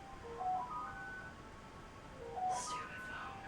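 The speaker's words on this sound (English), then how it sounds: "Stupid phone." A mobile phone ringing faintly indoors, its thin melodic ringtone repeating twice over a quiet room hiss.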